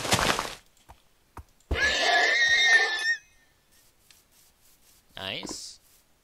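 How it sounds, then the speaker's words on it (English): A baby horse in the Minecraft video game gives a brief high whinny at the end, after an earlier burst of game sound; a person talks over parts of it. "Is that a tiny horse? You're a baby horse."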